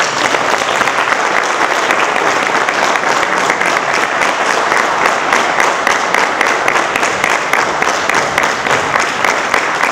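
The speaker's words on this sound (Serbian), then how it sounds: "Još jedan aplauz, dugujemo Ljuboviskom dramskom pozorištu i večerašnjim predstavima." Sustained, dense applause from a theatre audience at a drama festival closing night, steady and loud throughout with no talk over it.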